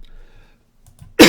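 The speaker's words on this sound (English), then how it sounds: "within 15 minutes, I'm coughing again" A single sharp, loud cough bursts out at the end from someone who is sick, following a near-silent stretch with faint low rustling.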